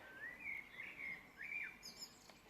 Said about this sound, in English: Birds, could you just be quiet a little bit please?